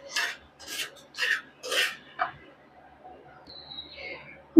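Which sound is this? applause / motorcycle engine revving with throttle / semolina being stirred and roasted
semolina being stirred and roasted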